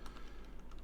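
Quick, faint keystrokes on a computer keyboard, a rapid run of soft clicks over a low background hum.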